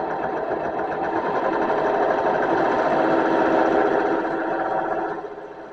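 A serger runs continuously at a steady mechanical whir, stitching a rolled hem along napkin fabric, close and loud for about five seconds before easing off at the end.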